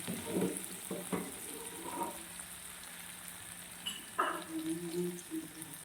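Onions with green chillies sizzling in a pan for a Tangra fish curry, a steady soft frying hiss broken by a few clinks and scrapes of stirring.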